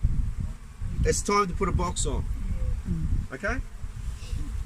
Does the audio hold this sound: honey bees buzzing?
yes